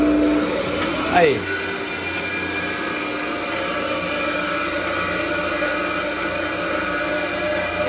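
A Multilith 1250 offset printing press starts up with a rising whine, then settles into a steady, loud mechanical hum and whir that runs on evenly, with a brief voice over the start.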